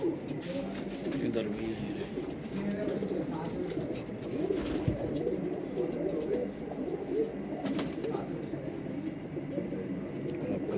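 Madrasi and Punjabi mix pigeons coo in a continuous low, murmuring chorus close by, while someone talks over them now and then.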